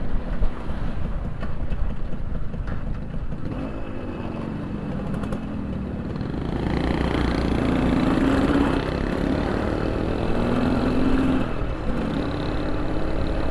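Suzuki A100 Econos motorcycle from 2002, a small 100cc engine, running on a test ride, a low steady drone mixed with wind rush that grows louder midway.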